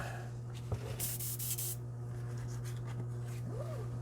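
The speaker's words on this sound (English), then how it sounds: "Little Medea airbrush cleaner cleans that stuff right out." A Medea airbrush cleaner sprays through an airbrush in a steady hiss of about three quarters of a second, close and fairly loud, set over a constant low hum with faint background noise.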